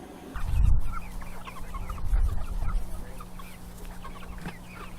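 Chickens cluck nearby in a few loud bursts, with softer clucks and bird chatter between them.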